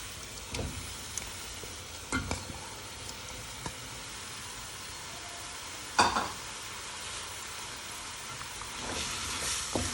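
Chicken and prawns sizzling in a hot pan for Indonesian nasi goreng, a steady frying hiss broken by several sharp spatula scrapes and stirs, with no voices.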